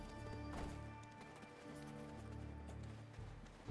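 Horse hooves clip-clopping in the Black Desert Online game world, soft rhythmic steps under quiet background music, faint and steady.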